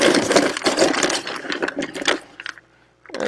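Ice cubes are scooped into a cocktail shaker while a tiki drink is made, giving a dense run of loud, close clattering rattles that then tapers into quieter clinks.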